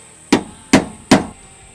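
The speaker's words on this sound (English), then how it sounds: "we're just going to give this a light touch up with a big hammer." Three sharp, evenly spaced hammer blows strike a car part on an R31 Skyline wagon build, loud and close with brief ringing decay after each hit, nothing else heard.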